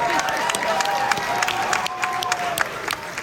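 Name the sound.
crowd cheering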